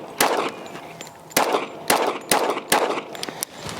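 Several sharp, loud shots from an Operator 1911 pistol in .45 with 230-grain rounds, fired in an irregular sequence of about seven cracks, each followed by a brief ringing decay.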